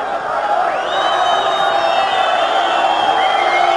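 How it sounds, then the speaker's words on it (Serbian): Football supporters from Banja Luka, the Lešinari, chant loudly and steadily in the stadium stands at a Sloboda vs Borac match, a sustained sung roar of many voices carrying on without pause. "Banja Lučani imaju veliku podršku svojih navijača, doputovali su lešinari iz Banja Luke. Mnogo su glasniji"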